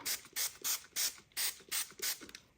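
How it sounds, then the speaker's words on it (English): A spray bottle mists paper pages in seven or eight quick, even hissing pumps. Each short burst stands out alone in a quiet room. "So we'll mist them again like before."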